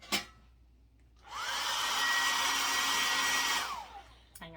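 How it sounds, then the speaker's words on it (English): A hair dryer switches on and blows with a loud, steady whoosh for a couple of seconds, then winds down and stops. "I'm going to take my blow dryer"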